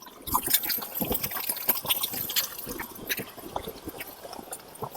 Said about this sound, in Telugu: చూడండి నీళ్ళు ఎట్లా వస్తుందో నీళ్ళు అయితే బాగా ఫుల్గా వస్తుంది